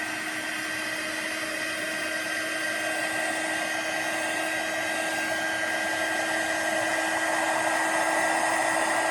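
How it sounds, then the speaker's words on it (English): A heat embossing tool blows hot air over a handmade Christmas card in a steady, loud, whining rush that holds constant throughout with no talk. "get our heat tool out here. Heat embossing is one of those techniques that just makes it pop"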